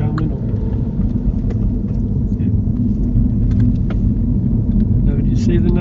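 A car engine rumbles steadily from inside the cabin during a driving lesson as the car shifts up to third gear, a loud continuous low drone under a spoken voice.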